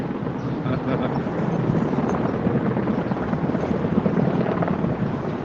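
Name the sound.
helicopters overhead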